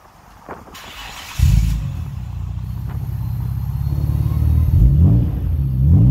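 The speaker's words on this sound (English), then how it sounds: "Fairlady has an unknown exhaust." A Nissan Fairlady Z with an aftermarket exhaust starts with a sharp burst, then idles with a low, rumbling exhaust that swells slightly as it revs.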